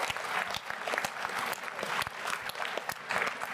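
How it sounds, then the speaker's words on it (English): Audience applause at a convention general session, a steady wash of clapping hands from a crowd that lasts throughout at moderate level. "let's have a round of applause for we got to get into the World Council now."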